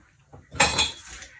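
Metal kitchen utensils clatter and clink together in a drawer during a short burst of rummaging, close and fairly quiet.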